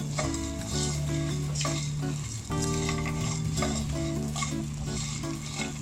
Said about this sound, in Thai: แล้วก็วนไปเรื่อย ๆ เลยนะครับ จนกว่า เครื่องเทศของเราจะหอมนะครับ